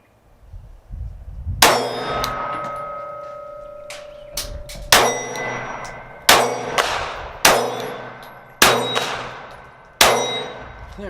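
Several Glock 43 pistol shots ring out on steel targets, each sharp crack followed by a long metallic clang that decays; about seven impacts come at irregular intervals, close and loud.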